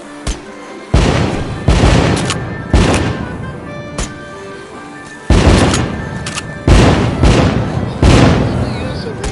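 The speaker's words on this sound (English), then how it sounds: "Light up those fireworks, sit back and enjoy the show." Fireworks exploding in a PS4 video game: a string of about seven loud, sharp booms, each trailing off into a crackling, fading tail, spaced unevenly one after another.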